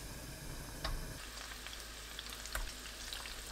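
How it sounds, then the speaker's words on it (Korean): Tofu frying in three spoonfuls of cooking oil in a pan, a soft continuous sizzle with a couple of brief crackling pops, no voices. "팬에 식용유 3큰술 두르고 두부를 노릇하게 구워냅니다."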